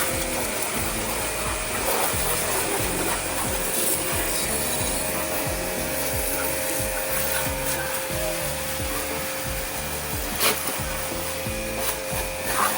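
A locally bought, unbranded pressure washer sprays water over a car during a wash: a dense, continuous hiss over a pulsing low motor throb, close and loud, with no one speaking.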